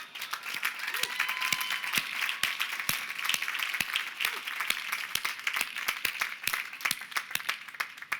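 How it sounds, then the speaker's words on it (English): Steady applause from a college commencement audience recognizing distinguished faculty, with many sharp, distinct hand claps in a continuous crowd ovation. "Let's give them a round of applause."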